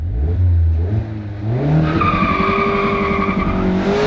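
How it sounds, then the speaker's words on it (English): A car launches hard from a standstill in first gear, tires squealing briefly as the engine note climbs steeply through the revs, loud and close with no talk. "Now let's see what it can do from a standing start in first gear."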